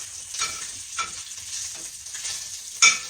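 Bacon sizzles steadily in a pan for biscuits, with a soft continuous crackle and a few louder stirring or shifting sounds, including a sharp clink near the end.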